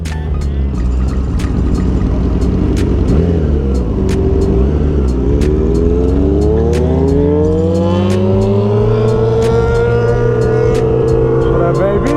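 Several 600cc supersport motorcycles, including a 2022 ZX6R, a 2020 Yamaha R6 and a 2019 CBR600RR, race and accelerate, engines climbing steadily in pitch through the gears, loud and continuous with a rider's voice briefly over the roar.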